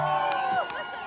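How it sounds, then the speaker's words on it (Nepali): An audience at a live performance cheers and whoops in a short, loud burst of crowd noise with shouting voices. "कोही ताली बजाइदिउँ उहाँकोलाई"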